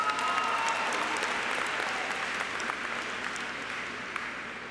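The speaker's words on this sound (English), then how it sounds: "Let's give her a round of applause." An audience at a Columbia High School event applauds a new principal, a steady wash of clapping that holds fairly even for several seconds before easing slightly.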